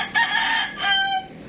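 A Rhode Island rooster kept as a fighting cock crows once, loud and close, its long call rising and then trailing off into a held note.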